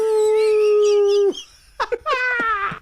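A person imitates a wolf howl with one steady, sustained note lasting over a second, then breaks into short bursts of laughter nearby.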